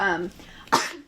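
A single sharp sneeze bursts out after a stretch of talking voice, loud and close, then quiet.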